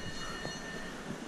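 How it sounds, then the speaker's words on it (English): Cliff railway train on the Exmoor coast, giving a steady close rumble of rail running with faint wheel squeal, continuous with no voices. "looks like the entrance to the train that goes up the cliff is along here"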